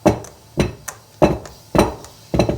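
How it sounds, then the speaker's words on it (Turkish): A filled cake pan holding orange cake batter is knocked against a surface five or six times in a fairly even rhythm, each tap a close, dull thud. "Birkaç da vuralım. Havası çıksın."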